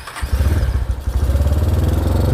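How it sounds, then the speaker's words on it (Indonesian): Motorcycle fitted with an Amogat aftermarket exhaust, heard close up with a rapid, steady thrumming idle after a brief start, alone with no voices. "Suara knalpotnya kita sepilkan dikit."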